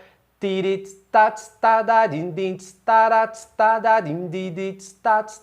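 A single voice vocalizes a busier samba duro drum pattern with ghost notes, strong sung beats filled in with quick, softer in-between syllables, imitating percussion.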